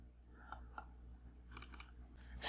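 A computer mouse gives two quick pairs of faint clicks, close but quiet against a low steady hum.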